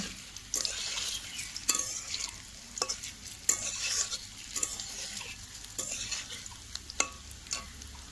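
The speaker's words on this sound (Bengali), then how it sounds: "ভাজাটা মিষ্টিগুলো পুরো ভাজা হয়ে গেছে।" Sweets fry in oil in a kadai while a utensil stirs them, with sharp scraping clinks against the pan at irregular intervals over a continuous soft sizzle.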